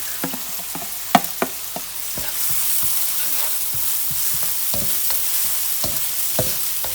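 Onion and garlic fry in a pan for fried rice, a steady hiss of sizzling oil broken by repeated clicks and scrapes of a stirring utensil against the pan.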